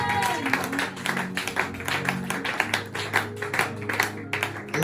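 Church congregation applauding and cheering for Jesus during a seminar service, a dense sustained wash of clapping with crowd voices mixed in throughout.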